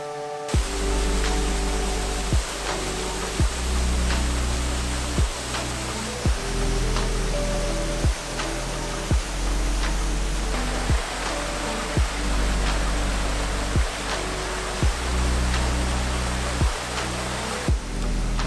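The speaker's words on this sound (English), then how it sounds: "We've got the main waterfall in the background, and then the water flows down through these rocks, tumbling down here." A waterfall in the Peak District pours over rocks, producing a loud, steady rushing roar of broadband water noise that runs unbroken for the whole stretch, with no voices.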